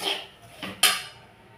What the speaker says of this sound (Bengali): দিয়ে আমি কিছুক্ষণ ধরে সুজি, বাদাম, আলু একটু নাড়াচাড়া করে নেব।